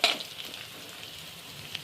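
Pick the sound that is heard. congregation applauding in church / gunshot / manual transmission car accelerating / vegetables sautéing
vegetables sautéing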